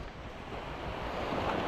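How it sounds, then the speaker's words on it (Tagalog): Big ocean waves near an island crash and wash in a steady broadband roar, swelling slightly louder toward the end, with wind buffeting the microphone and no voices. "Lalaki kasing alon."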